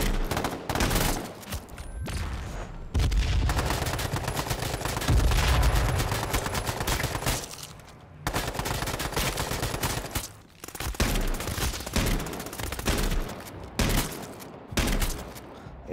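Rapid bursts of SOCOM rifle fire in the video game H1Z1 Battle Royale, loud, dense volleys with brief gaps between strings of shots.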